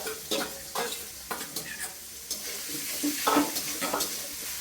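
Mutton pieces with salt and ginger-garlic paste cooking in a pan, stirred with a string of scraping strokes over a steady sizzle, moderately close and fairly quiet, with faint background voice.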